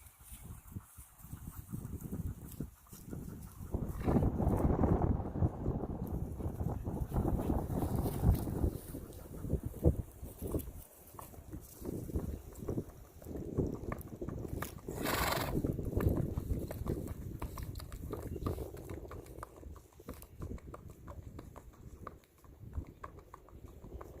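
Hooves of an unshod, well-broke trail horse clip-clop in a steady walking rhythm outdoors, fairly near, with wind noise across the microphone and an occasional whinny.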